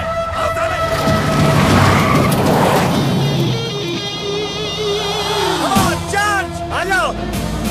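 A car pulls away with tires skidding and squealing, a loud rush of engine and rubber that fades, followed by sharp squeals and a voice in the background.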